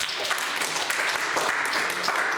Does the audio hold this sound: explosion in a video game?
no